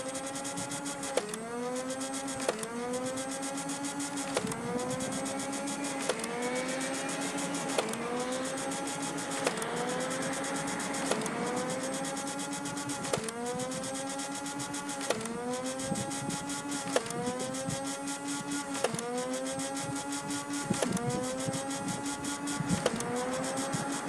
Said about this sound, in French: Je vais tirer 15 fléchettes au coup par coup